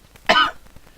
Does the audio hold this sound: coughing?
yes